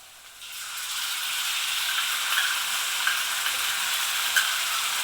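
Raw tomato puree sautés with well-browned onions in a pan for a chole gravy. After a quiet start, a steady, close hiss of sizzling rises and holds, with occasional faint ticks of stirring.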